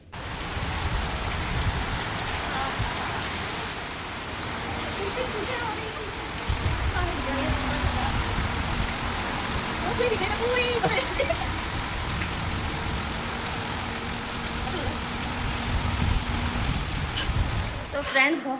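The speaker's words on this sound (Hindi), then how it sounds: "बहुत तेज़ बारिश होने लग गई थी" Heavy rain pours steadily, a dense, continuous wash of drops drumming on surfaces, with a low rumble underneath and no pauses.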